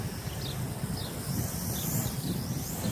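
Wind blowing outdoors in a steady gusty rush, buffeting the microphone with low rumble and faint rustling throughout.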